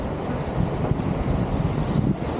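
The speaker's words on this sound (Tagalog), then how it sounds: "Grabe yung alon." Strong ocean waves roll in at Baler beach, a steady broadband roar of surf mixed with gusty wind buffeting the microphone, loud and continuous throughout.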